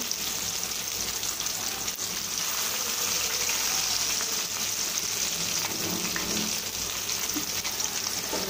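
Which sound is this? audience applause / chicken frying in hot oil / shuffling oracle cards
chicken frying in hot oil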